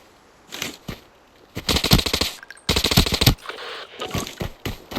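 Automatic gunfire in the mobile shooter Arena Breakout Mobile as a player fires on a bot, coming in several close, loud rapid bursts separated by short pauses.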